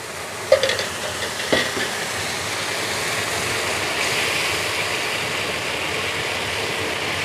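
Sauce for Mongolian beef poured into a hot pot, a brief splash and clatter followed by a steady, loud sizzling hiss that carries on evenly to the end.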